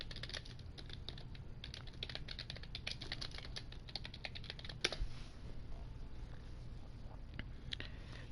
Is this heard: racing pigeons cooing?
no